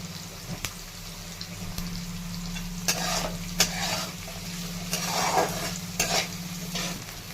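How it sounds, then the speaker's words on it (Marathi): Fresh shelled green peas sauté in a pan, giving a steady sizzle and occasional scraping stirs, close and fairly loud over a low hum. "हे आपले शेंगामधले ताजे वटणे आहेत पण आता एक परतून घ्यायचंय"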